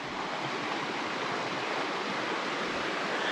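A creek crossed by a rickety old bridge on a trail near Ellicott's Rock rushes steadily with a dense, even wash of flowing water, close and continuous with no voices.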